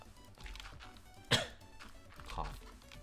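A single sharp cough bursts out at close range midway through, brief and loud against a quiet room murmur, with a softer throaty breath following a second later.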